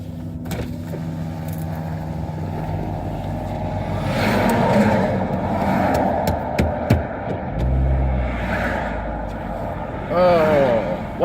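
Road traffic on a detour, with car engines rumbling and vehicles passing nearby, one revving past, under ongoing talk inside the car.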